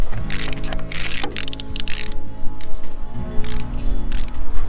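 A socket ratchet works on a Japanese oil pressure sensor on a Kubota L185 tractor, producing rapid metallic clicking bursts in short runs over a low mechanical hum, close and fairly loud.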